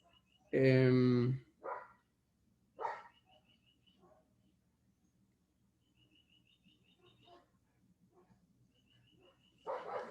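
Dogs bark outdoors in a few loud, separate bursts, one long harsh volley followed by shorter barks at a distance, with gaps of quiet and faint birdsong between them.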